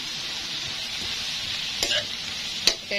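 Vegetables stir-fried without pork in oyster sauce, a steady bright hiss with two sharp utensil clicks against the pan near the end.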